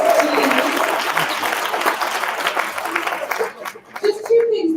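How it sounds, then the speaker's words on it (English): Audience at a live leadership event breaks into a dense round of applause, loud and close, which thins out and stops near the end as a voice starts speaking. "Ladies and gentlemen, a big round of applause for Mama"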